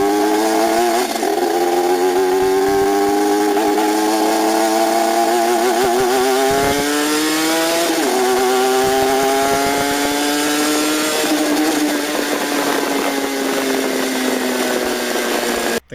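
Suzuki SV650 or Cagiva Mito motorcycle engine with a rasping, lawnmower-like buzz, loud and close, its pitch rising and falling in a few throttle swells over a steady drone.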